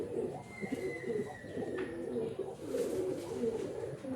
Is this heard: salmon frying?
no